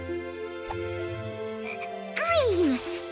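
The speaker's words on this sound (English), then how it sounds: "Oh, and this frog." A cartoon frog croaks once in a loud, rising-then-falling call near the end, set against a steady musical background in a children's colors cartoon.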